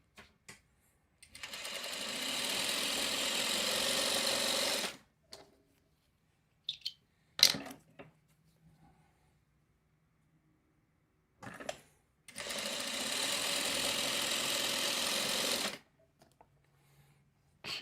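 A sewing machine stitches across a scrap of fabric in two sustained bursts of rapid, close mechanical whirring. Quiet gaps between them hold a few clicks and handling knocks.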